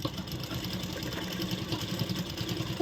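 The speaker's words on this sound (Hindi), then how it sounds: "अभी हम यहाँ भी सिलाई लगाएंगे।" A sewing machine stitches a dart on a blouse, running in a steady, fast mechanical chatter throughout, close and moderately loud with no talking.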